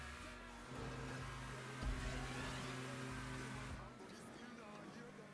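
Car engine revving in GTA Online, a steady mid-pitched drone that swells briefly and then drops away near the end, with players talking over it.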